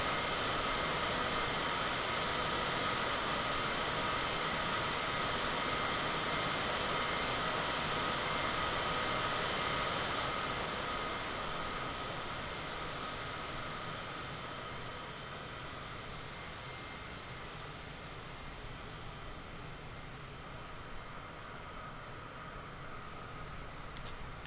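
Airplane engine drone, a steady broad roar with a sustained hum, loud at first and gradually easing lower in level over about twenty-five seconds, with no talking.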